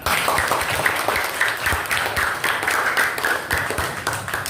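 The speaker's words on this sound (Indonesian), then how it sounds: "tepuk tangan untuk Elvira." A crowd claps steadily for several seconds, a dense patter of many hands in a room, with no voices over it.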